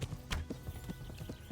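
Horse hooves clip-clopping on the ground in the Kingdom Come Deliverance video game, a steady, close run of rhythmic hoofbeats with a faint whinny.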